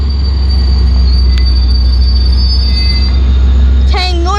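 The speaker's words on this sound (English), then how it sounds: "Train number 463 is stopping at Silverhead Shore Station right now." Passenger train number 463, northbound and bound for LA, pulls into Silverhead Shore Station with a loud, constant low rumble close by, and a sharp wheel squeal rises in the final moments.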